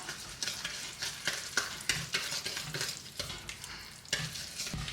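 Thick chocolate cake batter with vanilla extract being mixed by hand in a bowl, repeated scraping strokes and soft knocks in an uneven rhythm, close up and with no speech.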